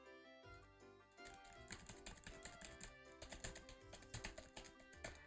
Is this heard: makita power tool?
no